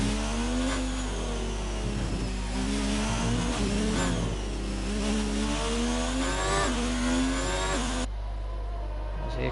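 F1 car in the F1 2019 video game at Abu Dhabi, its high-pitched engine revving and shifting continuously as the car accelerates and warms its tyres, loud and close throughout.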